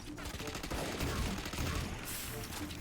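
Sheriff pistol gunfire in a tactical shooter game, a dense run of close, punchy shots layered over game effects, with a voice talking faintly underneath.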